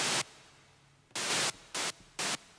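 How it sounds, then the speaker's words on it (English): White noise from a synthesizer oscillator, sounding as four hard-edged bursts of bright hiss: one long, one held, then two short, with faint noise between them. "I'm gonna use some white noise on the oscillator"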